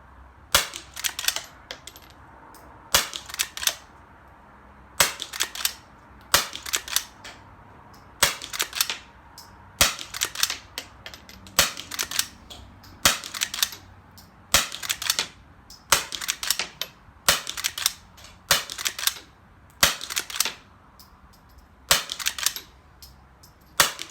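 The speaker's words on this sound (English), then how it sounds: "so that was a whole magazine tube full of Calibris." Shots from a .22LR lever-action rifle firing Calibri ammunition at 25 yards, a long steady series of quiet, crisp pops, each followed by a lever cycle, repeating about every second with short pauses between.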